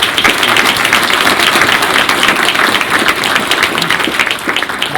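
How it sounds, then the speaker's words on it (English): Sustained round of applause from a large crowd at a military retirement ceremony for a Chief Master Sergeant, dense steady clapping throughout with no speech over it. "So another round of applause"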